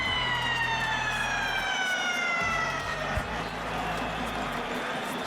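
A stadium siren sounds at a rugby test between the All Blacks and the Springboks, a steady wailing tone with falling harmonics held over several seconds, set against a low, rumbling crowd bed.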